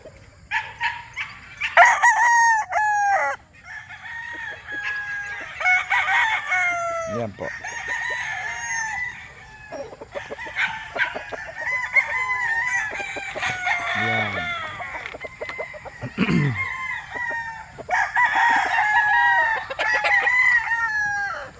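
A pure Boston breed rooster with a straight comb crows repeatedly at close range, long strained calls mixed with clucks, while someone talks quietly between the crows.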